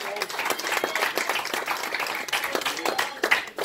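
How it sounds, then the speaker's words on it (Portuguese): Applause at a community Easter gathering in a restaurant, a lively, uneven patter of clapping hands close by, with voices chattering underneath. "Um aplauso para a Celina."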